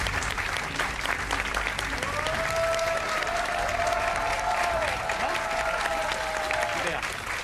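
An audience at a stage hypnosis show applauds after volunteers are woken from catalepsy, dense sustained clapping throughout, with a few voices and a tonal whistle-like sound riding over the crowd midway.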